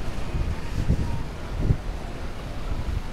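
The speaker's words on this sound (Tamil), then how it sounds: "காற்றும் நல்லா அடிக்குதா, நல்லா கோல்டாக இருக்குது" Strong wind buffets the microphone outdoors in a park in Cadiz, Spain, a steady low rumble across the whole clip with a couple of brief stronger gusts and no talk.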